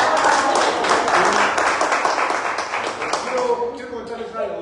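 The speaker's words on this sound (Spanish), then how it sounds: "Un aplauso." Applause for a speaker at the closing of a periodontics course in Oaxaca, dense clapping from a room of attendees that tapers off after a few seconds, with voices mixed in and overlapping.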